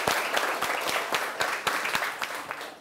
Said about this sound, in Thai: ปรบมือให้เพื่อนหน่อย